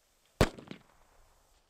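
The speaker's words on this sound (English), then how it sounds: "Within 10 meters, the explosion is loud enough to cause hearing damage." A Thunderflash military pyrotechnic goes off in a single sharp, loud blast that decays quickly into a short rumbling tail, alone with no voices.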